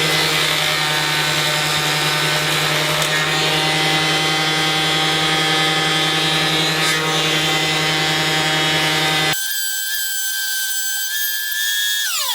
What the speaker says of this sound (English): Now what I'm going to do is whiz them through the planer so that we've got them all exactly 5mm thick.